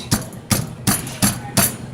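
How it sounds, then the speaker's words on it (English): Chicken being pounded flat with a meat mallet on a kitchen board in a skillet-chicken cooking demo: six evenly spaced, heavy thuds, loud and close, with no talk over them. "when you do pound the chicken like this, though, you want to pound and push away from you a little bit"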